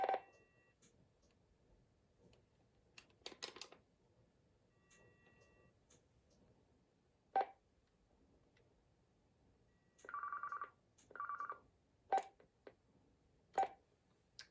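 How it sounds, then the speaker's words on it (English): Faint touch-tone dialing on a telephone when calling a test phone, with a few short, separate tone bursts spread across a quiet stretch. "I'm gonna try calling the test phone here."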